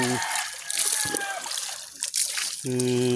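Water splashes and sloshes from a strong outdoor shower at a farm, heard between and under people talking nearby.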